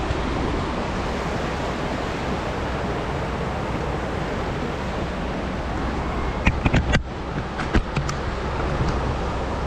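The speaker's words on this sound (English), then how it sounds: "Water is up a little bit, so it's going to be a little noisy" A river running high rushes steadily and loudly nearby, a constant broadband roar of flowing water, with a few brief clicks near the end.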